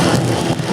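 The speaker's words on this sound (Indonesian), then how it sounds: "Mereka bertarung pada kondisi hujan dan badai." Rain and storm sweep over a cycling road race, producing a loud, steady hiss of rainfall on the road surface, continuous with no speech.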